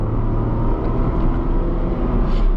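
A Tata Tiago hatchback accelerating hard from a standstill in city drive mode, revving toward about 5000 RPM and shifting from first into second gear; a loud, steady engine drone fills the whole stretch with no voices.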